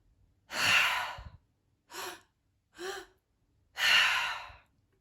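Triactive breathwork: four breaths heard up close in a quiet room, a long forceful one, two short sharp ones, then another long, airy one.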